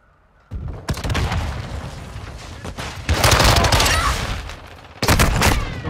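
Rapid gunfire in Call of Duty: Modern Warfare 2, loud and close, with dense overlapping rifle and machine-gun bursts that build to heavy volleys and a sharp fresh burst near the end, a voice briefly heard among the shots.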